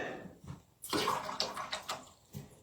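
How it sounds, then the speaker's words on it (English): Watercolor brush swished and rinsed in a water container, soft close sloshing and splashing in short bursts, with no talk. "rinse it good."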